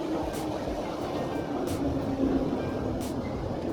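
A train carries passengers into London, a steady rumbling roar inside the carriage with faint periodic rattles of the wheels over the track, continuous and close.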